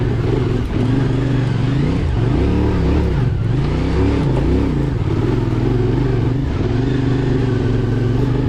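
CFMOTO Ibex 450 enduro motorcycle ridden around an intermediate enduro track, its engine loud and close throughout, droning steadily with repeated rises and dips in revs as the rider works the throttle over roots and terrain.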